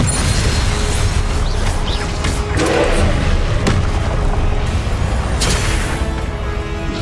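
Heavy booming spell impacts slam down in Hogwarts Legacy combat, a dense low rumble with repeated thuds and crashes layered over constant game noise and music, loud and close throughout.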